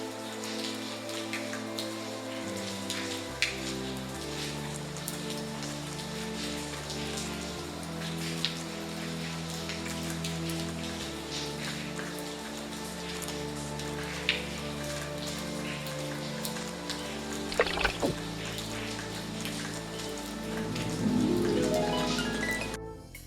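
Rain falls steadily in the Lucy Dreaming video game, a continuous even patter of drops on surfaces heard alongside layered game music, with a brief swell near the end and no talk.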